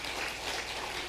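A church congregation at a Sunday worship service claps together, a brief, soft, even patter of many hands heard alone at some distance.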